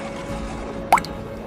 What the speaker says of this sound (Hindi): छत जगह जगह से टपकने लगता है।